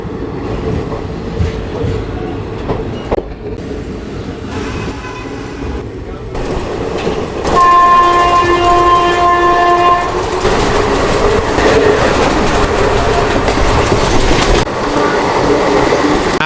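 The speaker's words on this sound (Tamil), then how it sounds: "3:10க்கு தான் இங்க இருந்து நம்ம வண்டி கிளம்புது" The Nagarsol Chennai Express pulls out of a station beside an airport: carriages rumble and clatter, then a loud, sustained horn blasts for a few seconds over the steady rolling noise.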